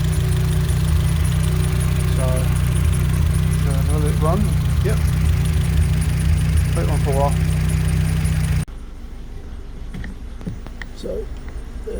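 The cold engine of a Renault Twingo Mk1 idles roughly with an uneven, misfiring throb, loud and close, while someone talks over it; the sound drops sharply near the end as the engine is shut off or moves away.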